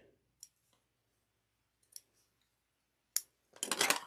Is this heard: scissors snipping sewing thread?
yes